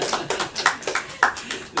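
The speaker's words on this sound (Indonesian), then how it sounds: "tepuk tangan ya" A few scattered handclaps from a small group during a radio talk session with a young wayang puppeteer and sinden on World Wayang Day, mixed in with ongoing talk.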